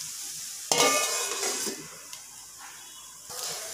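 Okra (ladies finger) fried in a pan over high flame for a Kannada-style bendekai palya, a steady close sizzle that bursts louder as the pieces are stirred, then settles to a softer hiss before flaring again near the end.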